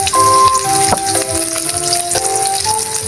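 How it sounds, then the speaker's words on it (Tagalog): Onions poured into a hot pan of garlic and ginger burst into a loud, steady sizzle with some rattling as they settle, close and continuous. "Ibubuhos na natin yung ating sibuyas."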